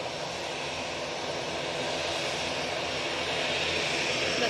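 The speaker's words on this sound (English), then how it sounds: "Next out, beautiful Brussels Airways A319." A Brussels Airlines Airbus A319 jet roars steadily at Manchester Airport, a loud, broad, continuous engine rush that holds evenly throughout with no speech over it.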